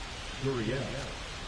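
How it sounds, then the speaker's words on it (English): Steady rain hisses over a baseball video game stadium in the Bronx during a Diamondbacks versus Yankees matchup in the third inning, a soft continuous wash with a faint voice murmuring briefly beneath it. "This rain is not letting up."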